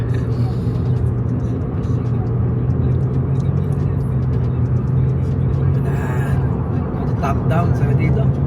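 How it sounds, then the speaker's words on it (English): An RWB Porsche driven with the top down on a road in Japan, a loud continuous engine and wind rumble heard from the open cabin, with voices talking over it. "Top down on an RWB, driving in Japan."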